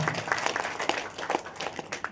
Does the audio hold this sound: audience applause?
yes